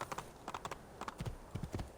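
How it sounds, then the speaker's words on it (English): Horse hooves clip-clop in a quick, rhythmic gait while riding in Assassin's Creed II, the quiet hoofbeats alone in irregular clusters of sharp taps. "Hello, horse. Let's go for a little ride, shall we? That's a good looking horse."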